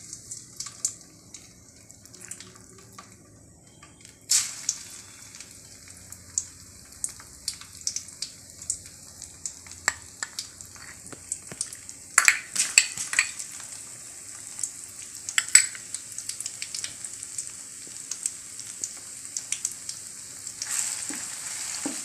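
Ground ginger paste fries in hot oil for a ginger pickle, a close, crackling sizzle with sharp bursts and pops that come and go over about twenty seconds.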